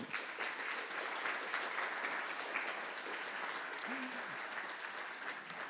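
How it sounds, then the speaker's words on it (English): An audience of parents at a poetry recitation event gives steady applause, a dense, even patter of clapping heard from a distance at moderate volume with no talk over it. "I'd like for y'all to give each other a round of applause as parents."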